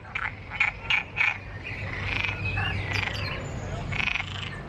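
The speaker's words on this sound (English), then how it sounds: "Listen to all these little frogs." Chirpy frog croaks repeat in a rapid series, then continue in a rattling chorus alongside other high calls nearby, in Santa Cruz, Tenerife.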